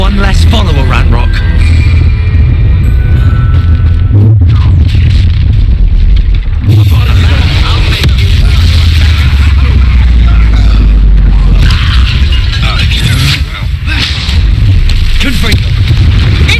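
Booming Confringo spell explosions burst in Hogwarts Legacy combat, several loud impacts and crackles layered over continuous game music and effects, with a voice shouting spell names.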